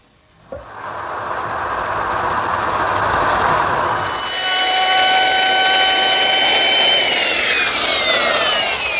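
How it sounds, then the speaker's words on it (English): A router with a 1/4 inch radius roundover bit rounds over the top edges of wooden toy chest rails, whining loudly and steadily as it cuts after a sharp start-up, close and with no talking. "I'm rounding over the corners with a 1/4 inch radius roundover bit"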